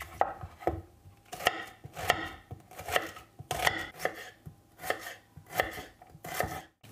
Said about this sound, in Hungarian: kezdek is azzal, hogy felvágom a hagymát